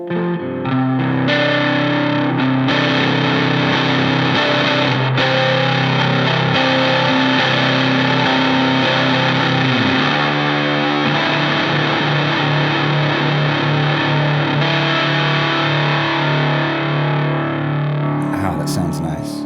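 Electric guitar pushed through a high-gain distortion pedal, playing heavy metal riffs, loud and continuous with thick saturated tone, a brief palm-muted chug passage midway and a sustained ring toward the end.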